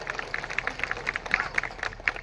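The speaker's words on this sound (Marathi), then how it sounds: "त्यामुळे सगळ्यांनी टाळ्या वाजवून त्यांना शुभेच्छा द्याव्यात." Applause at an Indian political campaign launch rally, a short burst of scattered hand claps from an audience, fairly faint and quick, over low background noise.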